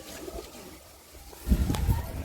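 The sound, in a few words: pigeons cooing in a loft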